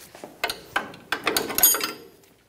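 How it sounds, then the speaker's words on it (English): Ratchet wrench loosening the 19 mm strut nut on a 2005-2010 Toyota Tacoma front strut, a series of close, sharp clicking bursts in uneven runs with no talk. "19 millimeters, we're going to remove the nut for the strut."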